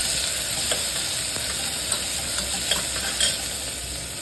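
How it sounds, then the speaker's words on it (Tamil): Onion, green chili and curry leaves sauté in hot oil in a pan, giving a steady close sizzle with faint stirring scrapes throughout. "கட் பண்ணி வச்ச வெங்காயம், பச்சை மிளகாய், கருவேப்பிலை 3 சேர்த்துக்கிறேன். நல்லா வதக்கி விட்டுக்கோங்க."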